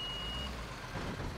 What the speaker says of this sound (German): Ich sehe jetzt wieder einen LKW.